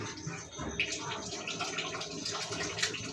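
Water runs steadily from a Kangen water machine with a splashing, trickling wash, close by, with faint voices underneath.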